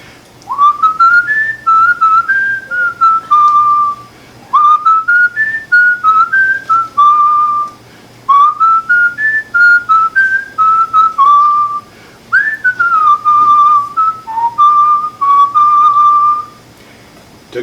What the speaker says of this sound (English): Grandpa would whistle.